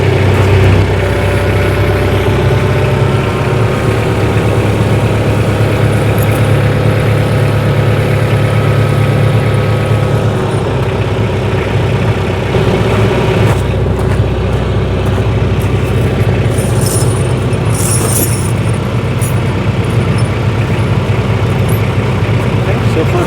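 A tractor fitted for winter with pewag dopplespur chains idles and creeps forward, its heavy engine running loud and steady up close, with a few faint metallic clinks from the chains.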